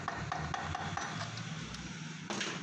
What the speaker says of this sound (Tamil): அந்த கேஸை ஓப்பன் பண்ணுறதுக்கு பிளாஸ்டிக் ஹேமரில் லைட்டாக தட்டி